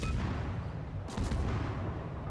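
Naval guns on a warship in World of Warships fire in a rapid battle exchange, with deep rumbling booms over a continuous low roar of gameplay.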